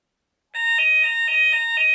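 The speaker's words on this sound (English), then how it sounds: "I'll go test this one now. This sounder has a ybo-bs on it instead of a chq" A Hochiki fire alarm sounder under test switches on abruptly and blares a loud, pulsing electronic alarm tone that repeats in steady beats, alone and close by.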